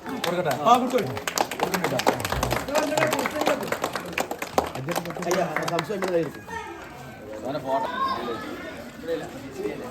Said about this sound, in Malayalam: എല്ലാരും കൈയടിക്കാം.